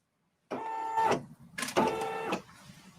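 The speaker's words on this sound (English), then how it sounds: "Why is it stitching all the way around?" An embroidery machine stitching around a denim zipper pouch gives two bursts of close, whirring mechanical buzzing with a motor tone, separated by a short gap and starting after a moment of silence.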